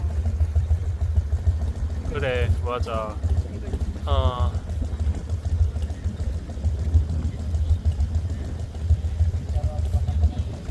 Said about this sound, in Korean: 아따 오토바이 시끄럽네